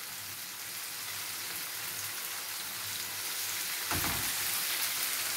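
Pasta sauce ingredients with peppers browning in a pan sizzle in a steady, dense hiss throughout, with a brief stir-like clatter near the end.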